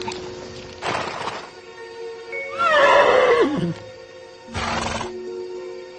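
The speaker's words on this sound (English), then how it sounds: "now we have to go help the horse" A horse gives one loud, shrill whinny that falls in pitch, framed by broadband rushing bursts before and after.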